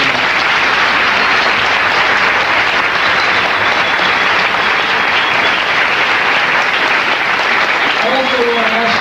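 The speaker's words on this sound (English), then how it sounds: "let's give him another round of applause" Sustained applause from a lecture audience honoring Dr. John Henrik Clarke, a dense, steady wash of clapping at full volume for nine seconds, with faint voices rising near the end.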